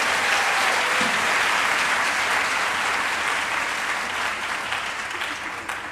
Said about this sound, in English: Give another round of applause to Coach Carey and our video team.